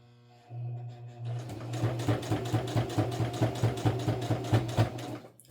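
A sewing machine starts with a low hum, then stitches a makeup bag seam in a close, fast, even run of needle strokes.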